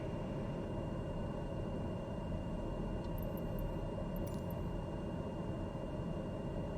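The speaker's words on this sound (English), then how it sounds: "That is a really big plane for this airport." Large airplane engines at a small city airport, a steady broadband roar filling the whole clip with no pauses, with a few faint high ticks near the middle.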